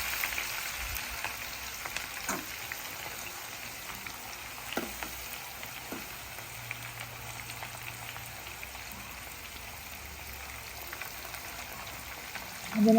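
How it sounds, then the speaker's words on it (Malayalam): Sliced onions frying in hot oil in a pan, a soft continuous sizzle with occasional faint pops and stirring clinks throughout. "സവാള അരിഞ്ഞ് വെച്ചതും കൂടി വറുത്ത് കോരി വെക്കാം."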